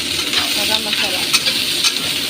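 Garlic sizzles in hot oil in a pan, a steady bright hiss with brief stirring crackles at close range.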